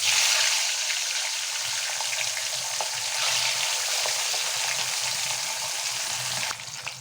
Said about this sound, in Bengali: এবার মাছটা ভাজি।